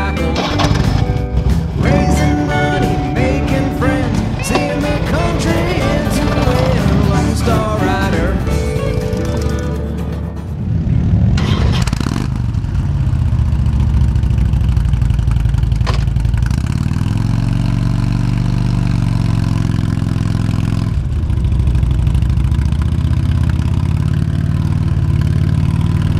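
A motorcycle engine on a Sunday ride near Sturgis, South Dakota, along US 14 Alt. It idles loud and close with a steady, rumbling throb and shifts in pitch partway through, with no voices.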